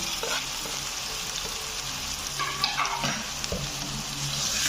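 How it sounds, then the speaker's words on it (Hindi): Finely chopped potatoes frying in masala with curry leaves for Hyderabadi aloo tahari, a constant close sizzle broken by scraping and clinking stirs of a spoon against the pan. "इसको अच्छी तरह भूनेंगे।"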